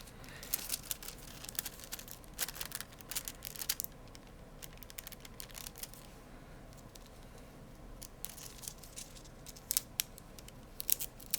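Scissors snip holographic nail transfer foil in a series of quick, crisp cuts with a faint crinkle of the thin sheet, close up and quiet, with no talking.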